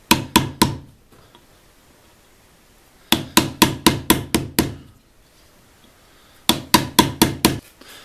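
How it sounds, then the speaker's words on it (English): Mallet blows drive a chisel into a wooden hatchet handle to shape a seat for the head: three bursts of sharp, evenly spaced woody knocks, a few strikes, then several more, then another run, close and loud with quiet pauses between. "I can chisel it out so that the head will fit onto the shaft very nicely"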